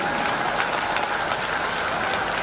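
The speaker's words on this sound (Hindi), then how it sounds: "कमजोर ताली बजा रहे हैं" An audience applauds at a Hindi-Urdu poetry recital, a dense, steady roar of many hands clapping that holds evenly through the whole stretch with no voices on top.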